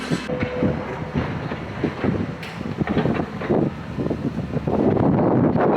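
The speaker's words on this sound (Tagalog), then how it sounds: "Windy. It's windy here." Wind gusts outdoors near a shop in Scarborough, a loud rushing roar buffeting the microphone, with rumbling and clattering that suggest a passing train, building stronger toward the end.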